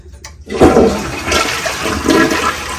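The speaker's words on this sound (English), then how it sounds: "see, mash it down, and it flushes" A household toilet flushes after its handle is pressed down hard; after a short click, a loud rushing swirl of water surges and continues draining close by.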